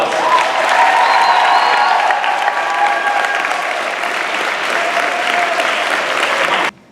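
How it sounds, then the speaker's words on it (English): A high school crowd at a Decision Day party applauds and cheers, a loud, sustained wash of clapping with scattered whoops that holds steady for several seconds before cutting off abruptly. "Give one more round of applause"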